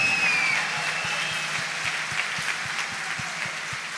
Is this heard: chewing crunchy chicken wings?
no